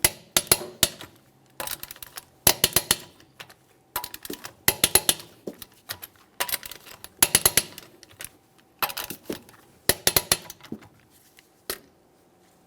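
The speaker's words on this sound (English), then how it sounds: "we're going to torque each of these to 110 foot-pounds." A torque wrench tightens the sway bar link bolts on a 2013-2015 Chevrolet Malibu, producing bursts of sharp metallic ratcheting clicks in quick clusters separated by short pauses, close and fairly loud.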